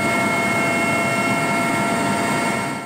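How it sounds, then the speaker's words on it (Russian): A helicopter descends to land in a remote northern area of the Nenets region, its rotor and engine a steady, loud, unbroken roar that fills the whole stretch with no voices. "Вертолет, наконец, идет на посадку."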